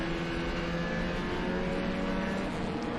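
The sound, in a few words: race cars racing at Mid-Ohio Sports Car Course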